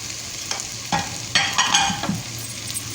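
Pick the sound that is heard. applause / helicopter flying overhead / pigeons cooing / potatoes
potatoes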